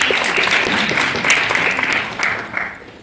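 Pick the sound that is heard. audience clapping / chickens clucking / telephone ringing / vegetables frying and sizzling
audience clapping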